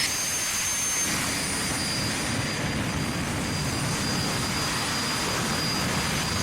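A jet drag race car's jet engine roars continuously, loud and close, a dense unbroken blast of noise at a drag strip.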